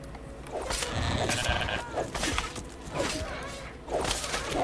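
Goats in the medieval survival game Pax Dei bleat several times in quick, overlapping calls, close and fairly loud, mixed with soft thuds and swishes of in-game movement.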